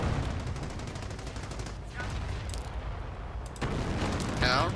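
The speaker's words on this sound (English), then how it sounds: "Calliope firing off again." Calliope rocket launchers in Company of Heroes fire in a dense, rumbling barrage of launches and blasts that carries on steadily, swelling louder near the end, with a voice talking over the battle.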